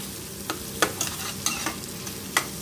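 Finely shredded cabbage frying in a pan for egg noodles, a steady sizzle with scattered stirring clicks and scrapes, close and continuous, no voices.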